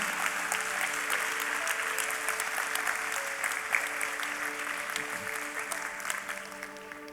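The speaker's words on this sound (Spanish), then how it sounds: "Bríndele un aplauso al Señor" A church congregation at Iglesia Nueva Jerusalén claps in a thick, sustained wave of applause that holds steady for several seconds, with faint tones from instruments beneath it.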